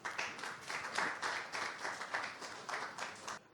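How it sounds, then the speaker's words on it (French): A small audience claps for itself at a French-language workshop event, a steady, moderately close patter of many hands sustained for a few seconds before stopping abruptly. "applaudissez pour vous-même."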